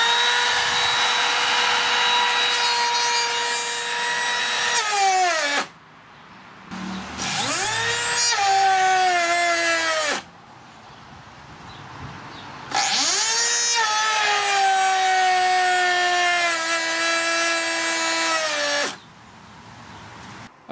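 Makita cordless router cutting wood, heard in two long loud passes with high whining motor tones that dip under load, separated by short idle spin-downs and quiet gaps.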